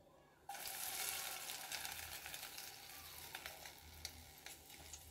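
Milk and egg mixture poured into hot ghee in a pan for egg pola bursts into loud, steady sizzling and frying that begins abruptly and continues close up, with faint crackles and no talking.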